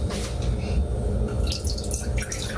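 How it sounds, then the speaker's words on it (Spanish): Water being poured into a pot while making a strawberry preparation, a steady close trickle and splash running continuously with no talk. "Vamos a poner una taza de agua primero."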